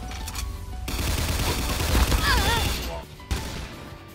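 Shotgun fire in the video game Phantom Forces, a rapid string of dense blasts forming a sustained burst, loud and close, ending in a brief silence followed by one more sharp shot, with a voice talking over it.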